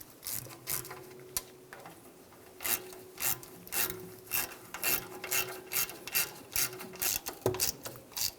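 Hand ratchet snugging bolts on a 2011-2018 Ram 1500 rear backing plate: a run of quick clicking bursts, close and fairly loud, growing busier and more regular toward the end, with no talk.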